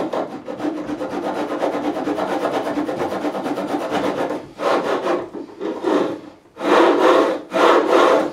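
A file rasps along the bevel of a 1984 Greco Les Paul Custom EG-500 guitar body during refret work, making long, even rubbing strokes close up, a continuous run followed by several separate loud strokes with short pauses between.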